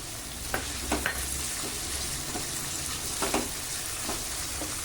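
Tomatoes added to a hot pan of onions, green chillies and ginger sizzle steadily and fairly quietly, with a few soft scraping stirs of a spoon over the frying hiss.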